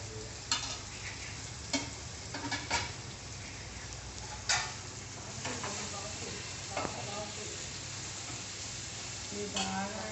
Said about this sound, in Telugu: ఆయిల్ గరమైనాక ఉల్లిపాయలు వేసుకున్నాం.